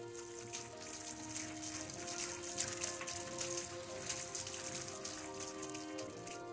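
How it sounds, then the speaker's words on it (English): Steady rain patters and hisses across a surface in the video game Death Stranding, with a faint trickle of water beneath; no voices, just an even, continuous downpour. "And then, of course, there is the sound of the rain."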